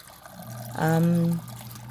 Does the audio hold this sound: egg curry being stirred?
no